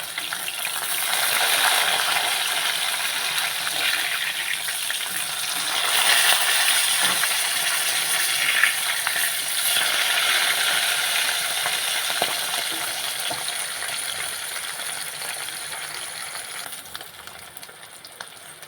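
Steady, loud hissing and crackling of fish frying in hot oil in a pan, continuous throughout with small pops and bubbling.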